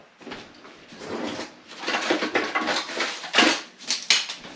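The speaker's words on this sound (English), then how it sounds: "so we are going to mix our panko spice blend and the curry and half the cilantro" Panko spice blend, curry and cilantro being stirred together in a bowl, a string of close scraping and clinking utensil-on-bowl sounds, irregular and moderately loud, with occasional sharper taps.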